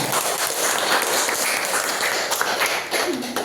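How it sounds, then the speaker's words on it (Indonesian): Students in a classroom give a burst of applause after a presentation on Islamic religious education; thick, continuous clapping fills the whole stretch at a steady level. "Kasih tepuk tangan."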